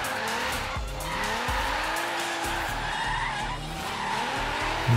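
A rear-wheel-drive Nissan R35 drifts in Forza Horizon 3 with sustained loud tyre squeal over a revving engine that shifts pitch through the slide, and no talking.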